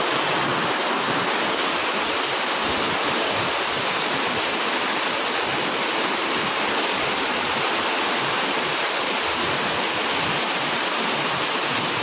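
Heavy rain with strong wind during a downpour in Dholka, a steady dense roar of water and gusts that stays loud and unbroken throughout, with no voices.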